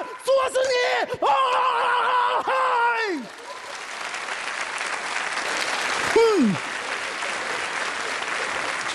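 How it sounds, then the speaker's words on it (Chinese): A comedy crosstalk stage audience applauds loudly and continuously, with shouted voices and strained vocal sounds over the top early on. "这有什么可鼓掌的呢？"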